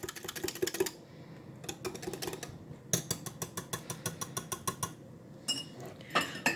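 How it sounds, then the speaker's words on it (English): A whisk clatters rhythmically against a bowl while a wet yeast roll mixture is combined by hand, with bursts of quick close metallic taps separated by short pauses. "Now, with your whisk, you're just going to combine this entire mixture."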